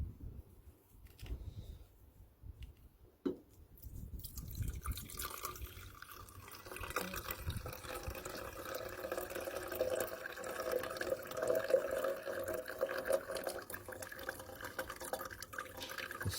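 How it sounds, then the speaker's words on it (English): Liquid from a silver recovery process is poured off out of a container, a steady trickling, splashing stream that builds after a quiet start and runs on close by with no talk. "I'm going to pour off the solution."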